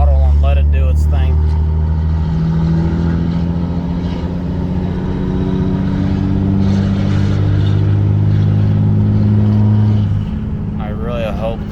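A 2003 Ram 2500 Cummins diesel with a six-speed, 4-inch downpipe and 5-inch exhaust pulls under light throttle, its deep engine drone rising in pitch through the gears, loud and close from inside the cab, with a voice talking over it briefly.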